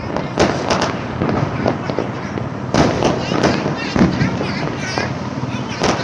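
Repeated sharp Diwali firecracker bursts and crackling pops go off throughout, some loud and close, with a steady noisy festive background and voices murmuring underneath.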